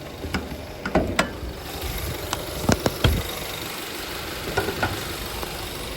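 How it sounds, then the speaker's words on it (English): A 2011 Mazda CX-7 2.5L engine with over 350,000 miles idles steadily with a low hum, punctuated by occasional clicks and light mechanical ticks. "Engine runs smooth."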